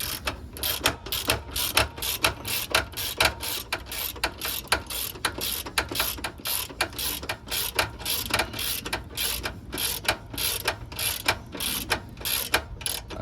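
A ratchet wrench clicks rapidly and rhythmically in close, loud bursts while tightening the bottom bolt of the rear wheel plate on a Honda GL1500 Goldwing motorcycle. No one talks.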